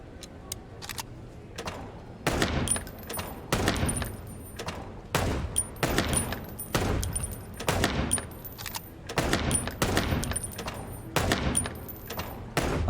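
Gunfire in the Chicken Police noir detective game: a steady string of sharp, loud shots, roughly one per second, each with a short ringing tail and faint metallic clinks between them.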